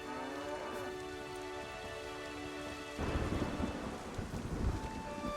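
Rain keeps falling in a Witcher 3 thunderstorm. Thunder rumbles low and heavy, with a denser, louder rain wash setting in about halfway through. There is no talk.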